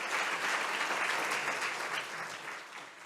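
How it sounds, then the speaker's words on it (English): An audience at an evening talk on Florida wetland conservation gives a big round of applause, dense and steady clapping that stays loud and gradually eases. "let's give Jeff a big round of applause"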